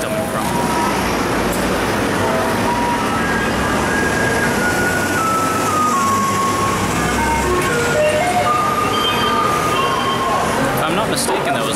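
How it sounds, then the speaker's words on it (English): Garbage truck in Keelung, Taiwan playing its musical jingle over loud street traffic, a clear looping melody of sustained electronic notes under distant voices and road noise. "If I'm not mistaken, that was a trash truck."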